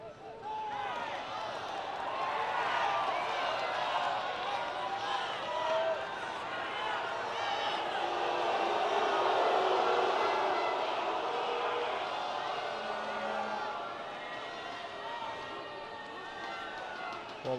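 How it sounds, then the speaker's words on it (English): A large football stadium crowd at an AFF Suzuki Cup semifinal, Philippines versus Singapore, gives off a sustained, displeased roar that swells in the middle and eases toward the end, with commentary running over it. "Well, the crowd isn't happy"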